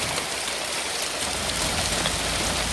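A hail shower in Andover gives a dense, continuous hiss of pellets striking surfaces, loud and close, with no voices.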